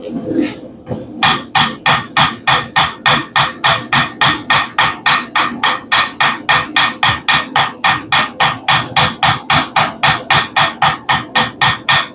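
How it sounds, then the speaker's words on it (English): A ball peen hammer strikes metal in a fast, steady rhythm, dozens of loud, sharp ringing blows close by, continuing without pause for over ten seconds. "A ball peen will work too"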